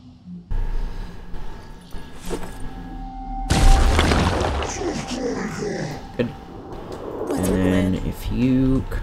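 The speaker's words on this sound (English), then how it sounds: "I think I can throw a grenade" A grenade blast in the tactical video game Phoenix Point: a loud, sudden boom with crackling debris that decays over several seconds, preceded by quieter game ambience and followed by later thuds and rumbling.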